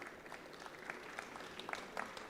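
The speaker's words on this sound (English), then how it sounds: "a round of applause" Audience applause at a live conversation event in Bengaluru, a soft, steady patter of clapping from a crowd, fairly faint and distant with a few sharper claps standing out.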